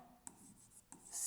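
A pen scratches on paper in two short strokes while a geometry exercise on circles and a cyclic quadrilateral is solved, close and quiet.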